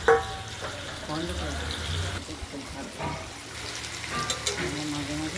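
Stuffed ash gourd slices, filled with mustard, poppy seed and flattened rice, frying in oil with a steady wet crackle and patter throughout, fairly close, while a voice talks over it.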